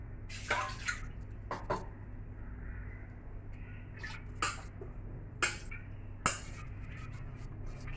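Water from boiled vegetable noodles being strained off in a kitchen, a soft running pour broken by several sharp clinks and knocks of the pot and strainer, with no talking.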